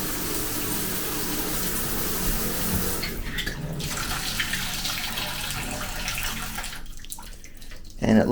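Hotel shower water runs steadily in a loud, hissing stream, with brief dips and a louder splash at the very end.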